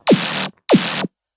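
An unprocessed reese bass synth fires two short, harsh bursts about half a second apart. Each opens with a quick downward sweep into a dense, gritty roar that cuts off abruptly, loud and alone.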